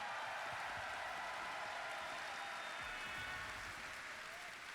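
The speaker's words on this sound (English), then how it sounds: "one more round of applause for the amazing sound team here and all the sound team at DE" A large convention audience at TennoCon applauds the sound team, a steady, even roar of clapping from a big crowd, heard at a distance and fairly quiet, lasting throughout.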